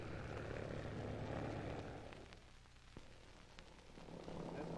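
A small propeller plane taxis on the ground in 1959, its steady engine drone holding as a continuous low hum that eases slightly mid-clip and then swells again, with no voices over it.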